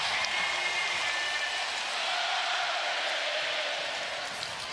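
A basketball arena crowd at a Warriors vs. Kings game, chanting call and response for Keegan Murray, comes through as a dense, steady roar of many voices that fills the whole stretch without letup.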